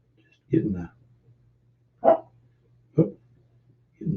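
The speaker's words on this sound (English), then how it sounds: "getting the dog's upset because I shut the door on him" A dog shut behind a closed door whimpers and barks in four short, fairly loud bursts, each separated by about a second of quiet.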